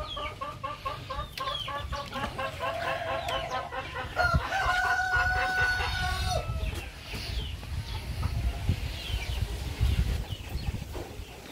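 US Silkie hens and other chickens clucking nearby in a backyard flock, steady overlapping clucks and calls with a rooster crowing partway through, fairly loud and close without talk.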